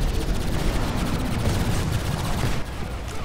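Video game units open fire in a sustained, rumbling volley of rapid shots and low booms, steady and fairly loud, then dropping slightly near the end.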